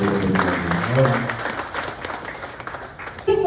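Applause from an audience at a Rotary International stage event with a Tamil mimicry comedian, a steady wash of clapping that holds at even loudness throughout, mixed with a voice talking over it.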